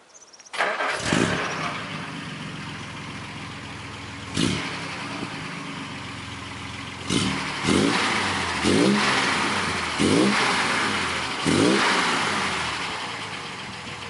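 A classic Alvis TA21 car with a stainless steel twin exhaust cranks and catches, then its engine settles into a close idle broken by several sharp throttle blips and revs.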